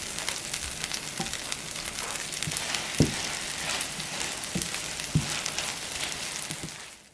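Crumbled tofu being stir-fried in a pan over medium-high heat, a soft continuous sizzle broken by a few sharp knocks of a utensil against the pan, fairly quiet and with no talking.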